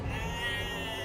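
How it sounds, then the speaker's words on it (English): A single sheep gives one sustained, wavering bleat close by, a clear harmonic cry lasting about a second with no talking over it. "Unfortunately, Brad, the sheep didn't touch the veggie burger."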